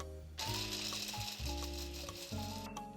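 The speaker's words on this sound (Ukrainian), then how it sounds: "Беремо наші горіхи і також подрібнюємо блендером." An electric blender chops nuts for a pistachio cheesecake, starting after a brief quiet moment with a loud whirring, rattling grind that shifts pitch as the blade catches the pieces, steady and close.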